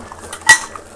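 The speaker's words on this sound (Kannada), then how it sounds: "ಈಗ ಕುಕ್ಕರ್ ಮುಚ್ಚನ" A single sharp metallic clack as a pressure cooker lid is closed, near and brief, with faint kitchen sounds around it.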